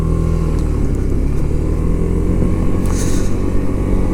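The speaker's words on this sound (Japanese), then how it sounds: "停止している状態ではエンジンのアイドリング音が聞こえてきます。" A Suzuki Burgman 200 scooter engine idles at a traffic light stop, a steady, low rumble with a faint mechanical hum, close and constant, with no revving and no voices.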